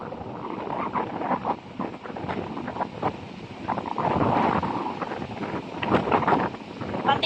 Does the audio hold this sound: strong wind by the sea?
yes